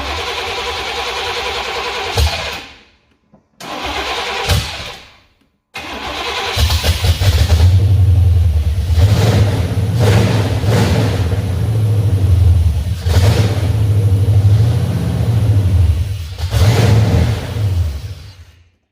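A 1988 Chevrolet Silverado engine cranking in short tries with pauses, then catching and running loud and rough nearby, with a steady low throb and occasional revs.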